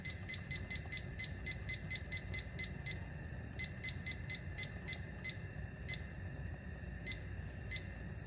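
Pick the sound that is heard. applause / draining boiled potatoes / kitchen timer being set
kitchen timer being set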